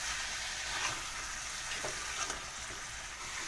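Steady close sizzling of banana stem and pork frying in a pan, with faint stirring scrapes breaking through the continuous hiss, no voices.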